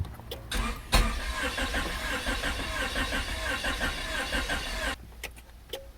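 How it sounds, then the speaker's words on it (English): A 1990 Honda Accord's starter motor cranks the engine in one sustained, loud, close whirring burst of about four seconds, with a steady pulsing rhythm, framed by a few sharp clicks before and after. "find out why sometimes it'll crank and sometimes it won't"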